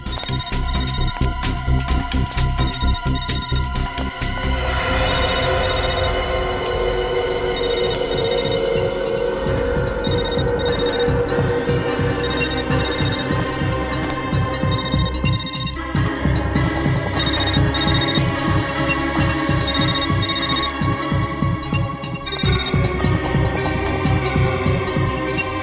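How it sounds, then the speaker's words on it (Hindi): A mobile phone rings with a loud, repeating melodic ringtone over a steady hum, continuous for about 25 seconds with no talk. "Sir bell."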